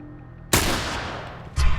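Two loud assault rifle blasts go off close up in the video game The Last of Us, the first with a long ringing tail and the second following about a second later.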